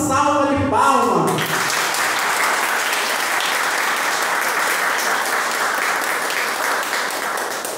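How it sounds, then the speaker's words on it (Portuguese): A church congregation breaks into sustained, loud applause, filling the room evenly for several seconds after a brief spoken lead-in, with no letup until it begins to fade at the very end. "é para esse Deus Todo-Poderoso que eu quero uma calorosa salva de palmas"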